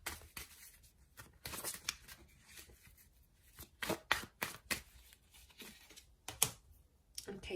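Tarot cards riffled and shuffled by hand, then drawn, giving quiet, close bursts of papery flicking and snapping with brief pauses between them.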